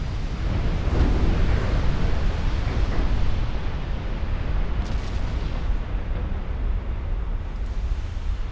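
Heavy cruisers' 11-inch guns firing at sea in Ultimate Admiral: Dreadnoughts, a dense and continuous deep roar of booms and rumble that stays loud and steady throughout.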